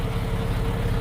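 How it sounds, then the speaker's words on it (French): A 2002 Porsche Boxster 986 2.7-litre phase 1 engine idling in normal mode with its exhaust bypass valves closed, a steady low rumble, close and even. "Là on peut l'entendre, elle est au ralenti en mode normal"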